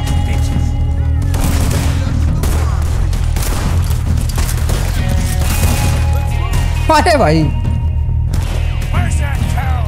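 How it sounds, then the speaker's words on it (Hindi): Rapid gunfire in Red Dead Redemption 2, dense overlapping shots and booms from enemies firing two-handed, continuing nearly nonstop with a brief exclamation from a player over it. "ये लोग भाई गोलियां मार दे रहे हैं, दो दो हाथों से गन चला रहे हैं"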